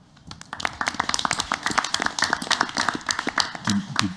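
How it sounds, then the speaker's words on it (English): Applause at a school district board of education meeting, a small group clapping close by in a dense patter of distinct hand claps that builds quickly and carries on steadily. "I think that deserves a round of applause"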